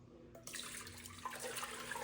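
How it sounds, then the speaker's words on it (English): Raw whole milk is poured into a pan, starting abruptly as a steady splashing gush over a low background hum. "The first thing we are gonna do is pour our milk into our pan."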